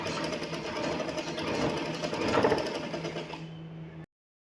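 Sewing machine stitching a trouser seam with an attached pocket, a steady close mechanical whir with a continuous rapid needle rhythm that runs for about four seconds and then cuts off.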